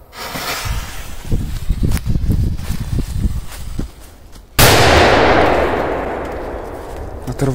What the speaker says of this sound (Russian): Фу, смотрите, какой взрыв.